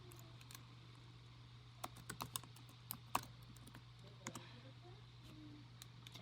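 Typing login details on a computer keyboard, quick irregular bursts of key clicks over a low steady hum, fairly quiet and close.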